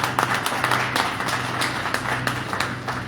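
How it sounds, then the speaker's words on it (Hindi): Applause from a seminar audience in Temoor, a steady dense patter of many hands clapping throughout with a low hum underneath, moderately loud and continuous. "9 लोगों के लिए एक बार जोरदार ताली बजाइए"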